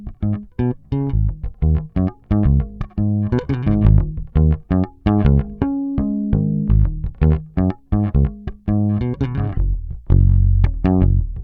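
Bass guitar run through a Darkglass Microtubes 900 amplifier with the treble turned up, playing a busy, punchy line of plucked notes with bright, growling attack, loud and close without any talking.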